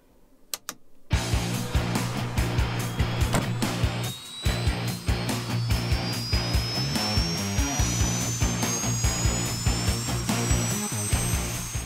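A Polish military helicopter's turbine engine spools up after a couple of sharp clicks, a loud whine rising steadily in pitch over rapid rhythmic mechanical chopping, close and continuous.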